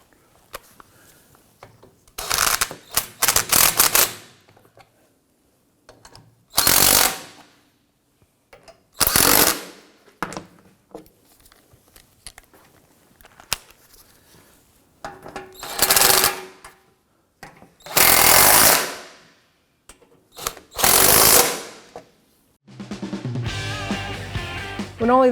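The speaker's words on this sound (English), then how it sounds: "With all the bolts started, let's go ahead and snug them down." A ratchet snugs down the drain-area bolts during an oil change on a 2003-2014 Volvo XC90 3.2L inline-six, heard as several separate short bursts of close, rapid clicking with quiet gaps between them.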